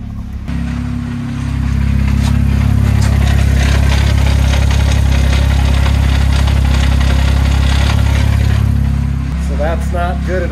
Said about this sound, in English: He put a stethoscope kind of on the transmission case and confirmed that the noises are coming from inside the transmission somewhere.